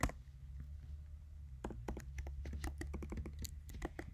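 Fingers type a password on a computer keyboard, quiet soft key clicks in an uneven burst that picks up pace after a short pause, heard close with no talking.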